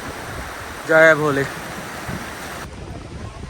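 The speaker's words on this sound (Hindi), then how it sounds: "पानी की कलकल सुनाई दे रही होगी आपको।" A mountain stream along the high-altitude trekking trail from Chandanwari to Sheshnag on the Amarnath Yatra gives a steady, hissing rush throughout, with a short chanted call from a voice partway through.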